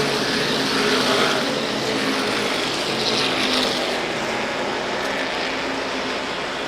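An SK Modified race car at Waterford Speedbowl takes the final turns and crosses the finish line, its engine a loud, sustained roar at some distance that holds steady, with no talk.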